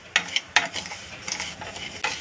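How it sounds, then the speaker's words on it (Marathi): Broken wheat daliya is stirred and roasted in a pan: a few sharp spoon scrapes and taps against the metal, spaced irregularly, over a faint dry rustle of grains. "छानपैकी आपण हे असं परतून घ्यायचंय, भाजून घ्यायचंय"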